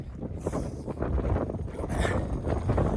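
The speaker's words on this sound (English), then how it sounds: "There is like pretty strong wind right now" Strong wind gusts steadily outdoors among trees, a loud continuous rushing roar buffeting the microphone throughout, with no voices.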